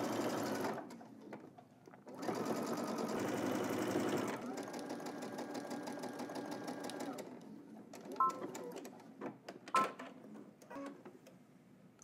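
A sewing machine understitches a seam on the lining side of a garment, running in two close bursts of rapid stitching, followed by a few light clicks and handling noises.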